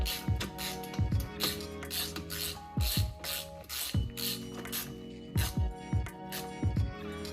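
A hand ratchet snugs up a 17 mm engine mount bolt on a VW Corrado G60. Quick bursts of sharp clicking repeat in short strokes with brief pauses between them, close and clear.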